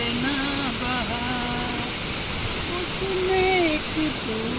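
Chitrakote waterfall in Chhattisgarh roars as a steady, broad wash of falling water, continuous and loud, with a singing voice carrying over it throughout.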